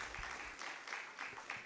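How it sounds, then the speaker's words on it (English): Audience at a school debate knockout clapping for a girls' high school team, a brief, moderately faint patter of hands in a hall. "A round of applause for Mary Leakey"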